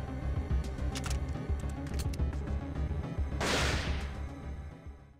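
Gunfire from a newly acquired weapon in the video game Parasite Eve II, a series of sharp shots over a busy game soundtrack, ending in one louder, longer blast near the end.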